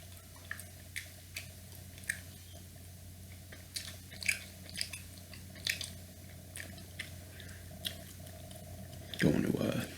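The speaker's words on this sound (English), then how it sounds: "hopefully the gum chewing's enough" Close, soft chewing of gum, with irregular moist clicks and smacks spaced every second or so over a quiet background, ending in a slightly louder rustle.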